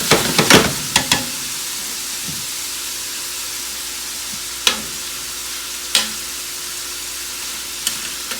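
Chicken sizzles and browns in a pan for jambalaya, with a steady close frying hiss and a few sharp clicks of stirring or utensils against the pan.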